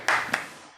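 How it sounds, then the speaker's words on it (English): Podcast hosts give a quick, sharp pair of close hand claps, the second softer than the first, ringing briefly into a quiet room. "Clap it up for him."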